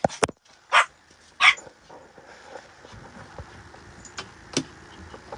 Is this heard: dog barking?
yes